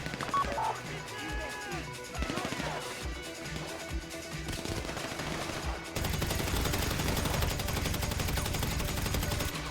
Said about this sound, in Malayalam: കാറിലാണോ വെടിവെപ്പ്?